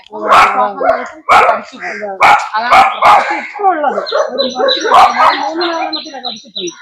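A dog barks loudly and close several times in quick succession, then high bird chirps repeat while the barking fades.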